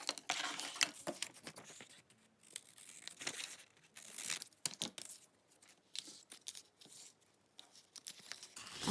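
Paper being creased and folded by hand into a triangle for a paper flower, with crisp crinkling, rustling and sharp tearing-like snaps in irregular bursts, close and fairly quiet, with no voices.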